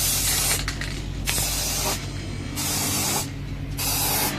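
Gold spray paint hisses from a can onto brass items in three or four close, loud bursts of about a second each, separated by short pauses, with no speech.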